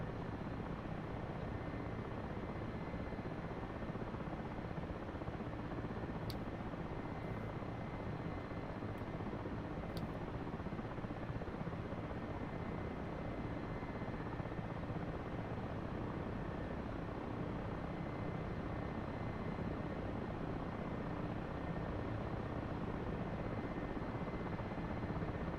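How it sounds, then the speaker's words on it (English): Steady, unbroken drone of a Russian transport helicopter in the DCS flight simulator during cargo slingload practice, a dense rotor-and-engine roar at constant level with no talk. "We're just trying to do some cargo lifting with our Russian transport helicopter."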